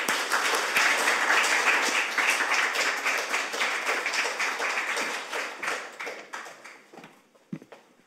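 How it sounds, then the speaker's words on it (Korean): At a press briefing on national audit issues, a seated audience gives a warm round of applause to welcome a research office director, steady clapping that thins out and dies away near the end with a final stray clap. "실장님 큰 박수로 맞아주시기 바랍니다."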